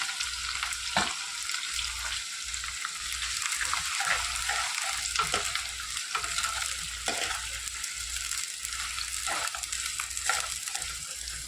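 Onions fry in oil in a clay pot, giving a steady close crackling sizzle with frequent short stirring scrapes and dips throughout.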